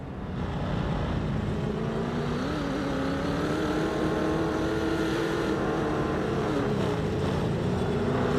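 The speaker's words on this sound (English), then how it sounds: "Sounds like it's revving like so much harder." A video game car engine in Broken Arrow drones steadily and revs higher, its pitch rising and wavering under a constant rush of wind-like noise, with no voices.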